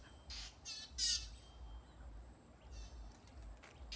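Teal ducks on a crowded swamp give several harsh squawking calls in short bursts around the first second and again later, moderately close over a low rumble of outdoor background.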